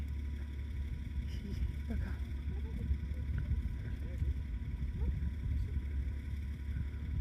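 Steady low wind rumble buffets the microphone throughout at a canyon viewpoint in the American Southwest, with faint outdoor ambience underneath and no clear speech.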